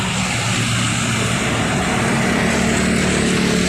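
A loud, steady bus engine drone rumbling continuously up close as a Rapi Sadewa bus pulls away, no voices.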